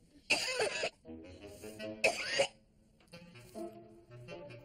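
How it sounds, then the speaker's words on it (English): Three harsh coughing bursts break out close by, the first two loud and rasping and the last fainter, spaced over a few seconds in an indoor setting. "I was a little bit taken back by the coughing fit."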